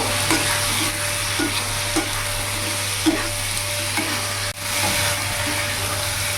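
Fried potato and pointed gourd are stirred with spices in an oily pan, giving a steady sizzle with soft periodic scraping strokes of the spoon roughly every half second, close and alone.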